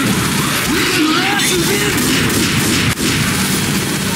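Loud, busy combat audio from Left 4 Dead's No Mercy campaign, with sniper rifle gunfire, including a sharp crack near the end, heard over constant game noise and a voice talking.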